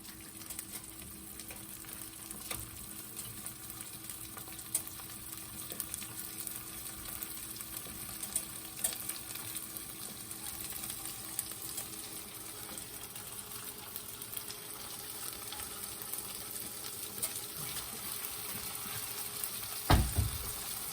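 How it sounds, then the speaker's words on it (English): Soft, steady sizzling and bubbling of cheese in a frying pan, faint and continuous with occasional small pops, then a brief louder clatter at the very end. "Oh, and the cheese is starting to bubble."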